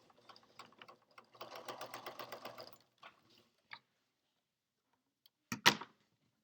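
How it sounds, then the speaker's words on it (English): A sewing machine stitches the inner lining of a fabric mask, running in short bursts and then a steady rapid whir of about a second and a half, followed by a few isolated clicks and a sharp clack, fairly quiet, with no voices. "I will pick the inner lining back up and sew along there as well."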